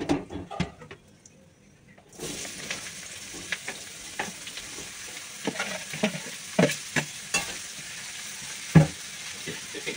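Quiet clicks and rustles, then a sudden loud burst of sizzling as bottle gourd drops into hot oil with cumin seeds and slit green chilli, followed by repeated stirring scrapes under a continuous hiss.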